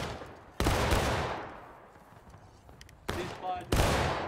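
Musket volleys crack out in a Civil War battle game set at the East Woods of Gettysburg, with a loud massed volley, a lull of scattered shots, then two more heavy volleys close by.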